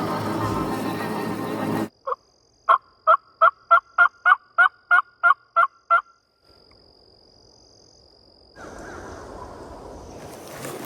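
A wild turkey in a swamp lets out a loud rhythmic run of about a dozen evenly spaced calls, ringing clearly over a quiet background. A stretch of silence follows, then outdoor noise returns.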